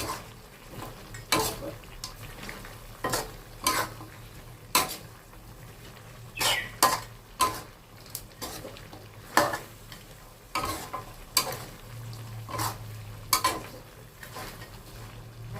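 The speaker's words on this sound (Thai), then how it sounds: "ใบมะกรูด คั่วไปอีกหน่อยนะคะ" Kaffir lime leaves stir-fried in a pan with sliced lemongrass while cooking Thai chicken: scattered scraping and clinking of a utensil against the pan over a soft sizzle, close and fairly quiet.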